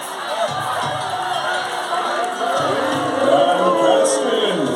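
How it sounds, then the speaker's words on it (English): A crowd of Yorkists at a Wars of the Roses live show at Warwick Castle in 2023 cheers in a loud, dense mass of voices, rising and swelling toward the end. "Yorkists, you stand under the banner of the White Rose, and your cheer is White Rose, White Rose, White Rose."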